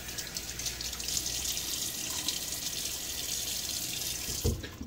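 Tap water runs steadily into a bathroom sink before a shave, a close, even splashing stream ending with a brief clunk as hands move under it.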